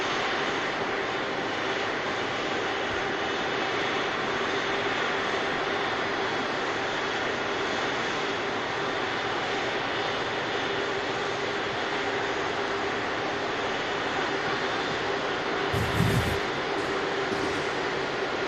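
Hainan Airlines Airbus A330 at Manchester Airport, a steady loud jet engine roar sustained throughout, with a brief low thump near the end.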